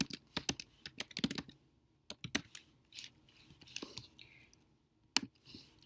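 Keys clack on a computer keyboard in quick uneven bursts with short pauses, close and fairly quiet, while a name is typed into a course editor tool.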